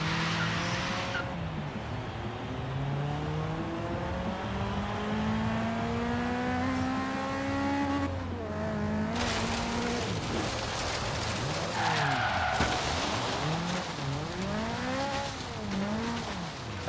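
A Lotus 340R, an open-wheeled sports car, skids in Forza Horizon 3 with continuous tire squeal over a revving engine that rises and falls in pitch through gear changes. It is loud and sustained throughout.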